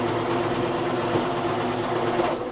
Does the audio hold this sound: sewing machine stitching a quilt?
yes